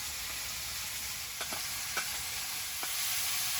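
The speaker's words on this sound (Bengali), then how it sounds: "সবজিটা ভাজা ভাজা হয়ে এসছে" Vegetables fry in a pan, a soft, even sizzle with a few faint stirring clicks, heard up close and quiet with no talking.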